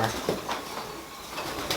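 Tippler pigeons coo in low, soft bursts, brief throaty calls from nearby birds over a faint ambient background, with no one speaking.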